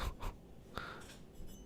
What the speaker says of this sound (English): Well, I'm making some tapping sounds.